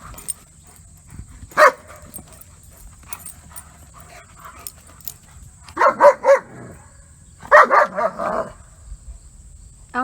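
Dogs bark outdoors in a backyard, one sharp bark early on followed by two clustered bursts of several barks each, fairly close and loud, with quiet panting and faint background noise between.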